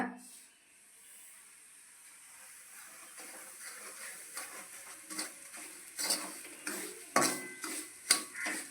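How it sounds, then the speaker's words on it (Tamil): Semolina (rava) roasting in oil in a pan for rava kesari, stirred with a spoon, a soft hiss building to repeated scraping strokes against the pan. "இதே எண்ணெயிலேயே ரவையை வறுத்துருங்க"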